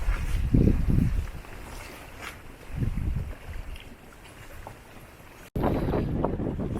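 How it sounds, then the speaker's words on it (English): Strong wind gusting at a lakeside campsite, a steady broadband rush with louder swells and microphone buffeting throughout, ending in a sharp cut to a closer, rougher blast. "Okay, it's very windy now."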